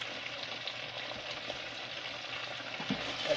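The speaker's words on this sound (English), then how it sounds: "getting all the edges sizzling" Salt and pepper squid frying in a pan on a large gas burner, a continuous close sizzle and crackle with faint bubbling, steady throughout with no talk.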